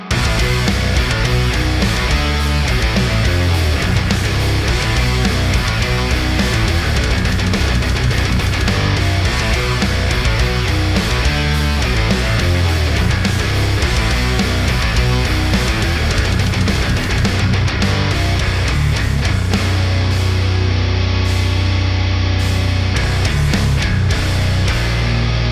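Heavily distorted metal electric guitar tone blending fuzz with metal distortion, a dense, loud, continuous wall of chugging riffs and sustained chords with no talking, thinning out briefly near the end.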